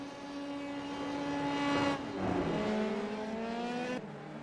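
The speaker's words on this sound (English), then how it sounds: "A few more cars on track, just finishing up their race there." Dallara F3 race cars circle the track in Barcelona, their high engines whining loud and close. Pitch shifts as cars pass and change gear, with several tones overlapping.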